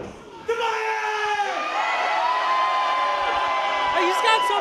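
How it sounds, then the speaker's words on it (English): A crowd at an independent wrestling show in Fulton cheers and whoops loudly, with shouts and yells rising and continuing throughout. "He's getting some cheers."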